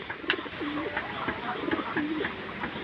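A homing pet pigeon, just back from Libmanan, gives a few soft, close coos in a steady rhythm against a busy background hum.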